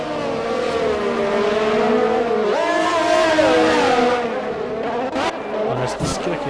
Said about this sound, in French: il tape beaucoup le rupteur hein